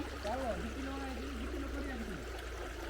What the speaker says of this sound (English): we are in a nearby stream, a river.